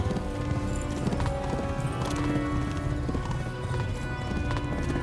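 Horse hooves gallop at a steady, continuous beat in the medieval game Kingdom Come: Deliverance, close and loud, with a whinny and ambient game music underneath.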